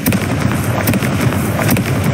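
The Confringo spell in Hogwarts Legacy sets off a dense burst of explosive crackling and booming blasts, loud and close, with repeated sharp pops through the whole stretch.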